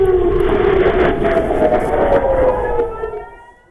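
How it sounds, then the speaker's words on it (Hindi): A loud air raid siren in Kiryat Shmona, Israel, wails with a long, slowly falling tone, overlapping pitches sweeping downward before fading out near the end. "ये किर्यत शमोना का इलाका है जहां सायरन की आवाज लगातार सुनी जा सकती है"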